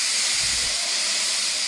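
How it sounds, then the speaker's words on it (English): A steam locomotive lets off steam feebly, a steady, close hiss that runs unbroken for the whole moment with a faint low rumble underneath. "He just let off steam feebly."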